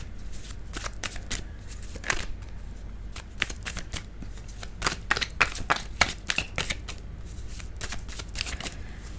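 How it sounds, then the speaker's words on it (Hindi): Tarot cards are shuffled by hand in quick, close riffles and slides that keep a busy, irregular rhythm throughout. "कार्ड शफल करते हुए"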